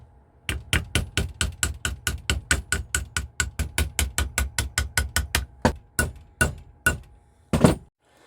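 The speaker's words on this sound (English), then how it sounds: "And then we're going to pound it, which will make this part a little bit longer." A hammer pounds a metal jewelry box clasp in quick, even, sharp blows, about two per second, close and loud. The strikes slow into a few spaced final hits.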